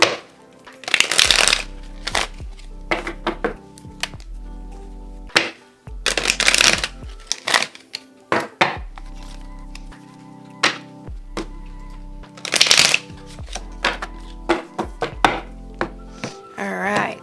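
A tarot deck is shuffled by hand in repeated bursts, each riffle a crisp flurry of card slaps ending in soft thunks as the deck is squared, close and loud with pauses between rounds.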